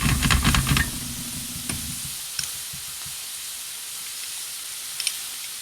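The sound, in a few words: cubes of butter frying with steak in a pan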